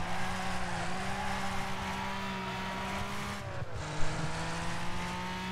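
TriStar car racing in the Wreckfest video game, a steady loud engine drone with sustained tonal whine and road noise, a brief dip and a small bump near the end, no talk.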